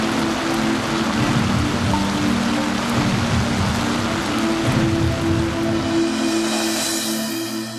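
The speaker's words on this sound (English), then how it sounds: "You throw in that kind of torrential rain" Torrential rain pours down at a roofing site, a dense, steady hiss of heavy rainfall with an underlying engine-like hum, loud and continuous with no talking.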